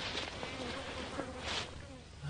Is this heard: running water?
no